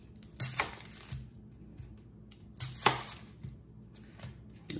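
An onion is chopped on a cutting board, with quick clusters of knife taps in short bursts and pauses between them, close and fairly quiet, without speech.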